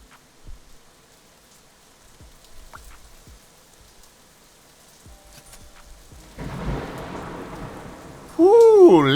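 Rain and thunder build from near quiet into a steady broadband downpour, with scattered faint crackles early on, and a voice briefly speaks over it at the end.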